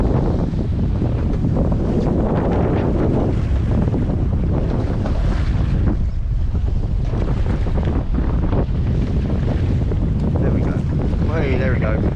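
Strong wind roars and buffets the microphone on a small fishing boat at sea off Hill Head on the Southampton south coast, a loud, continuous rushing with water slapping underneath and no pauses throughout.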